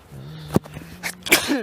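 A single sharp sneeze bursts out over a low hum, followed by a second short breathy burst and a bit of rustling.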